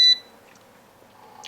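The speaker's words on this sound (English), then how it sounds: "it gives you a little beep to let you know that it's done" A Breville Grind Control BDC650BSS coffee maker gives one short, bright electronic beep when brewing finishes, followed by a quiet low hum.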